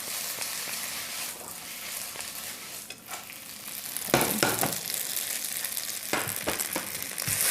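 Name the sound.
frying noodles until crispy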